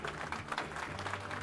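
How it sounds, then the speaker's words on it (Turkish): A crowd at the opening of a family and religious guidance center claps in thanks, a brief, fairly faint burst of applause heard from a distance. "Tüm katkılarından dolayı bir teşekkür alkışı da onlara alalım"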